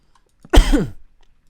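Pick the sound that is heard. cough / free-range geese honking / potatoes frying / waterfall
cough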